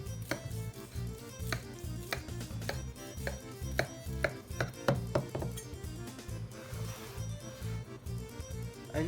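A sharp knife slicing down through a baked Greek moussaka in its dish, a series of crisp taps and knocks against the pan, close, over steady background music.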